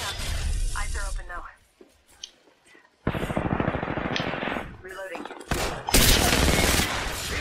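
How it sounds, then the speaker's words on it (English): Rapid bursts of automatic gunfire crackle in an Apex Legends match, loud dense volleys separated by a short quiet gap, with faint speech in between. "Where are you getting shot at?"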